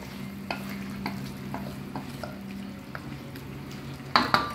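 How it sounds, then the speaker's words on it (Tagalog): Chicken pochero being stirred in a cooking pot, with a steady sizzle and a series of soft, evenly spaced scraping strokes, then a brighter clatter near the end. "Haluin lang po natin ng haluin para magsama-sama po yung lasa nila."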